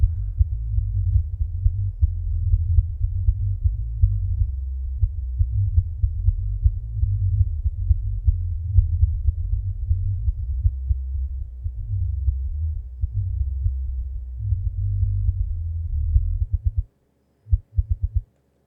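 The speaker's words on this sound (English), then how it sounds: "that's all we want to hear is the low toms" Deep, booming low toms thump over a heavy bass guitar line, dense and continuous, with almost nothing above the low end, then a brief stop near the close.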